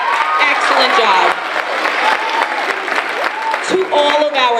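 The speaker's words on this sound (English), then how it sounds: "Let's give another round of applause to all of our students who performed" Applause for students who performed at a Veteran's Day celebration at Traphagen School, with scattered clapping and some cheering running under nearby voices and chatter throughout.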